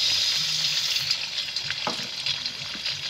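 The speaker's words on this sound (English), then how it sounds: "first this is our oil on the fire we put our pasty tomato inside" Tomato paste frying in hot oil on the fire for a soya bean stew, a strong continuous hiss and sizzle with occasional crackles and light stirring.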